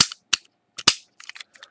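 A plastic Beyblade launcher grip with a lock system on top gives a few sharp, close clicks and snaps in quick irregular succession, crisp and dry against silence.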